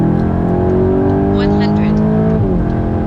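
A VW Golf 8 GTI Clubsport cruises on the Autobahn with a steady engine drone and road roar throughout, the pitch dipping briefly as it shifts gear near the end.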